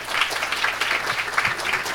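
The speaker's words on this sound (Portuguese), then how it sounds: "uma salva de palmas também para o Nadir" An audience at an architecture school anniversary ceremony at Mackenzie breaks into lively applause for an alumnus, many hands clapping close and full for about two seconds.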